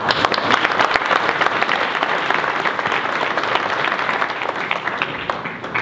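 An audience at a New Year's wishes ceremony gives sustained, lively applause with many hands clapping close by, with no talk over it.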